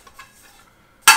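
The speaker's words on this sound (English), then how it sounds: "As soon as I open it, I have the Keith titanium nonstick skillet." A Keith titanium nonstick skillet from a kayak camping cooking kit is pulled out of a dry bag: soft faint rustling, then one loud, bright metallic clank near the end.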